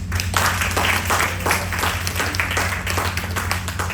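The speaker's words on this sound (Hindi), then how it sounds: "अब ताली बजाओ" Audience applause after a motivational talk, steady dense clapping throughout under a low hum, moderately loud and continuous.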